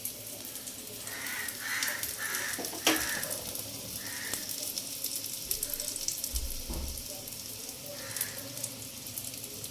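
Fish fingers in hot oil, a steady crackling sizzle with faint higher hisses and a clink near the middle, in a village-style kitchen.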